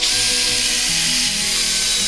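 A power drill whines loudly and steadily at close range while boring a pilot hole into heavy timber for a retaining wall, a continuous high-pitched grinding with no speech.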